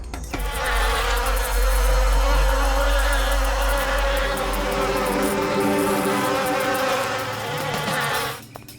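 Bees swarm around a beehive with a loud, dense, continuous buzzing drone that holds steady for several seconds before fading slightly near the end.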